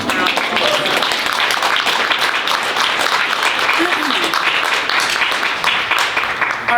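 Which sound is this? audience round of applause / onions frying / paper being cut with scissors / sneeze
audience round of applause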